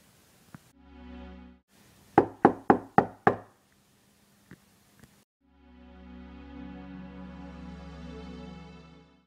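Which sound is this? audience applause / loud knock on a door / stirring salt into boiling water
loud knock on a door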